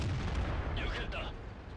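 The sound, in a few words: tank gun firing in a tank video game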